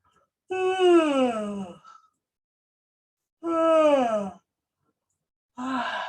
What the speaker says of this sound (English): So make a really fake yawn with this.